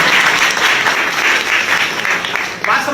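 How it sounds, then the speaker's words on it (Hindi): An audience claps hard at a business presentation, a loud, continuous, dense wash of many hands that carries on steadily throughout. "एक बार जोरदार ताली बजा दो"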